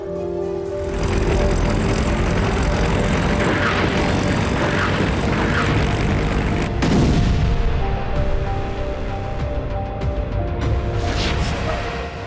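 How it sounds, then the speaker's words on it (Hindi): Russian cruise missile strikes on Lviv, with loud, dense booming and crackling blasts that roll on continuously, then a sharp shift to a fresh wave of explosive rumble partway through, with no talk. "रूसी क्रूज मिसाइलों ने लवीव के कई ठिकानों पर हमले किए"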